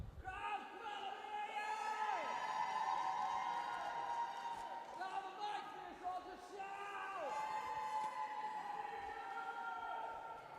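Roller derby crowd at a Halifax Bruising Banditas versus Newcastle Roller Girls bout, loud sustained cheering and whistles with swooping siren-like tones and noisemakers filling the hall for several seconds.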